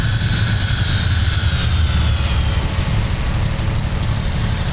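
Steady, loud jet engine whine inside a small plane flying over Washington, DC, a constant low rumble with high tonal whistles drifting downward, continuous throughout with no talk.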